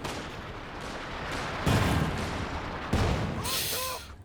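Pack howitzer artillery fire booms in a Company of Heroes 2 battle amid a steady rumble of gunfire, with two heavier thumps standing out partway through.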